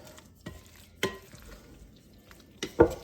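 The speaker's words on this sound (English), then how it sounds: "So let's give this a stir." Leftover Christmas pot pie filling stirred in a big bowl, a few spoon knocks and scrapes against the bowl at irregular intervals, close and fairly quiet, with no one talking.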